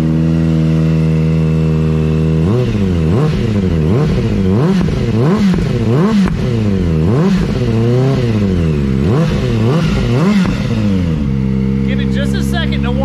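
A 2023 Kawasaki ZX4RR with a bolt-on slip-on muffler and stock catalytic converter idles, then revs repeatedly in sharp rising-and-falling bursts, loud and close, before settling back to idle.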